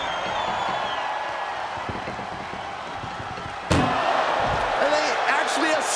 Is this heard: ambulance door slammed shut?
yes